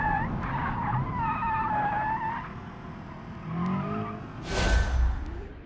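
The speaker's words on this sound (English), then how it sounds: "just absolutely squealing that inside tire out" Car tires squeal and skid in the BeamNG driving game during a wrecking mission, the inside tire howling in sustained tonal bursts at moderate level, followed by a brief whooshing rush near the end.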